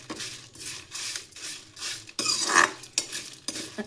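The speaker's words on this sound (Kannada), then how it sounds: "ಚೆನ್ನಾಗಿ ಫ್ರೈ ಮಾಡ್ಕೊಳ್ಳಿ" Radish pieces fry in oil in a pan while a spoon stirs and scrapes repeatedly in an uneven rhythm, with light metallic clinks over a soft sizzle underneath.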